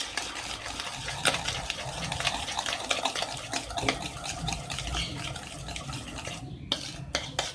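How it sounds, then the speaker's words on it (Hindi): Egg mixture being whisked by hand into chocolate cake batter, a continuous rapid beating with rhythmic clicks and scrapes of the whisk against the bowl, fairly close. "फिर से मिक्स करूँगी।"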